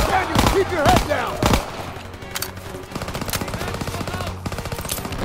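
Machine gun cover fire in Call of Duty: WWII, loud rapid bursts of automatic gunfire in close succession, with a shouting voice over the first few seconds.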